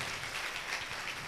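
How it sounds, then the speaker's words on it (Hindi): Schoolgirls at a girls' senior secondary school assembly clap together in a steady, dense patter of applause that fills the whole brief moment at even loudness. "चलो ये 6 बेटियों ने जो हाथ ऊपर किए इनके लिए ताली बजा दो।"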